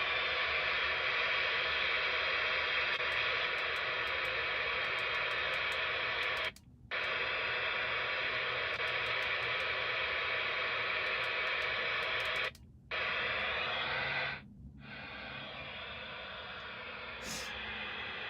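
Radio scanner with the squelch turned off hisses with steady, loud static that cuts out briefly three times, while a storm chaser's scanner sits in a quiet setting with no speech.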